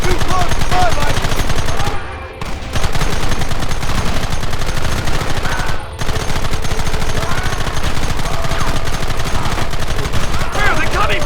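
Dense, rapid gunfire from a Western shootout in Red Dead Redemption, volleys of close, loud shots and automatic bursts running almost continuously with two brief lulls, while voices shout in the background.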